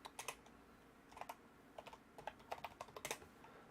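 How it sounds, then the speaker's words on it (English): Typing on a computer keyboard during firmware setup for a Voron V2.4r2 3D printer, rapid bursts of close, crisp key clicks in uneven clusters with short pauses between them. "Rubbish keyboard, can't type fast."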